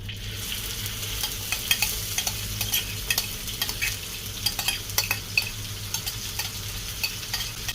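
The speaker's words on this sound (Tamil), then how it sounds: "இப்போது நம்ம சாப் பண்ணி வச்சுருந்த பூண்டும் இஞ்சியும் பச்சை மிளகாயும் போட்டுருவோம்." Garlic, ginger and green chillies fry in cooking oil with a continuous close sizzle, punctuated by repeated clicks and scrapes of a utensil stirring the pan.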